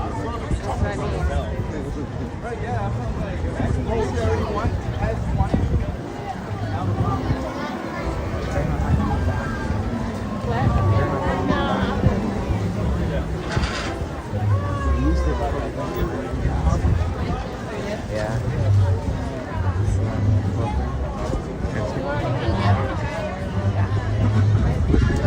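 Dense crowd chatter fills a busy walkway in the Simpsons area of Universal Studios Hollywood, a steady babble of many overlapping voices with footsteps and bustle, continuous and fairly loud throughout.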